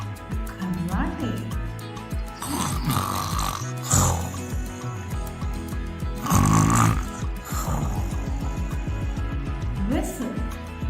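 Several rhythmic snores repeat with a steady breathing cycle, close and fairly loud, over a constant music bed and with no one speaking.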